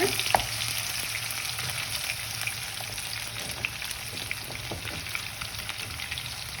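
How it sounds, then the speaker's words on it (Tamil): Onions sauté in a pan until light brown for a potato masala, a constant close crackling sizzle with occasional small pops and stirring scrapes. "இது நல்லா கொஞ்சம் லைட்டாக ப்ரௌனிஷ் கலருக்கு வரட்டும். அது வரைக்கும் நல்லா கொஞ்சம் வதக்குங்க."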